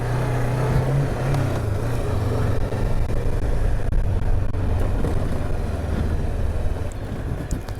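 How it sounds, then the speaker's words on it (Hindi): Steady cold wind buffets along a forest mountain road between Muzaffarabad and Abbottabad, a constant rushing roar with a low vehicle rumble beneath it, loud and unbroken throughout. "मुझे ठंडी हवा लग रही है"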